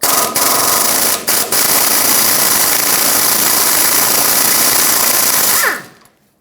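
An air impact tool with an 18mm socket rattles a nut off a rear sway bar link on a 1996-2002 Toyota 4Runner in one loud, steady hammering run of about six seconds. Two brief pauses come early, and the sound winds down at the end.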